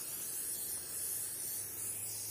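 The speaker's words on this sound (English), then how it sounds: "we'll just spray them really nice, especially here around this area" Impregnation spray hisses steadily from an aerosol can onto shoes and boots, a close, even, bright hiss that holds without break, with no talking.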